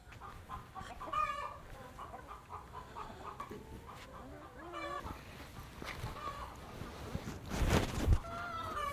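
Chickens at a henhouse on a Danish farm keep up a steady, moderately distant chorus of clucks and short calls, with rustling farmyard noise throughout and a louder burst near the end.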